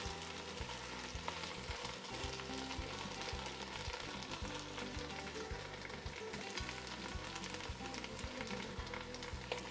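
Vegetarian chili with garlic cloves being stirred in a pot, a steady low sizzle with spoon scraping and stirring running continuously at moderate level, no voices.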